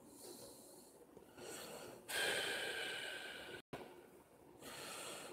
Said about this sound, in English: you're breathing deep